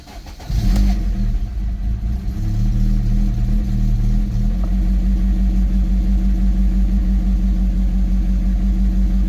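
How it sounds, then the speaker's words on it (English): A Rover 25 GTI with a fault starts up and settles into a loud, steady high idle, its engine holding a constant elevated hum and throb throughout with no speech. "Now the revs are sitting high like this,"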